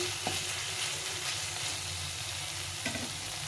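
Masala with Kashmiri chili powder sizzles steadily in oil in a frying pan, with a continuous hiss and a couple of faint scraping strokes as it is stirred.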